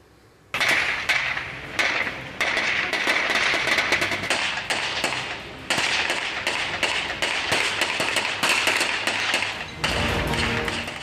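Heavy gunfire rings out during an attack on a security bus in Baramulla, Kashmir. Dense, rapid bursts of sharp shots run almost continuously, broken only by brief pauses, and no voices are heard.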